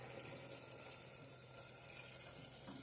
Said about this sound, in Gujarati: હવે આપણે આની અંદર થોડુંક એવું પાણી નાખીશું.